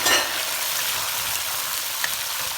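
Shrimp and garlic fry in hot olive oil for a pasta dish, producing a loud, dense, continuous sizzle that stays steady throughout, heard close with no talking.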